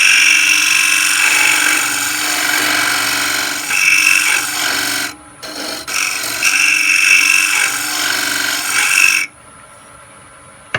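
A wood lathe spins a small threaded trinket box while a scraper cuts it, giving a steady, loud, bright scraping whine. The whine drops out briefly midway, resumes, and then falls away to quiet near the end.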